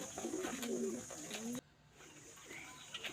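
Soft, wavering coos from baby pigeons in a flying loft, close by, with a faint steady hum behind; the cooing stops abruptly partway through.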